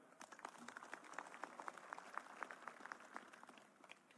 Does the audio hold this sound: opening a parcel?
no